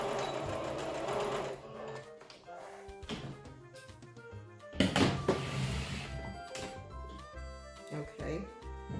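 A sewing machine back stitches headband fabric, its needle whirring in short stop-start runs with clunks between bursts, fairly close and clear.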